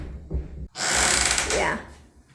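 A screen door on a DIY chicken coop creaks as it swings, one drawn-out grinding squeak of about a second, close and loud, after a brief quiet moment.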